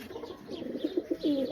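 Roller pigeon cooing at close range, a run of soft, throaty coos that pulse in a steady rhythm and swell louder toward the end, heard alone without talk.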